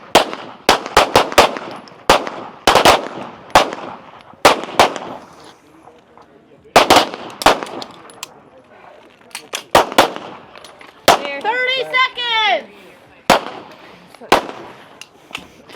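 Pistol shots crack sharply at small targets during a women's elite shooting stage at national championships, coming in quick bursts and scattered single reports with pauses between, while faint voices are heard in the background.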